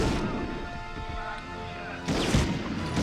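Enemy gunfire in the PS1 wartime shooter Medal of Honor, a steady rattle of muffled shots under a continuous low rumble, with a sharper, louder burst near the end.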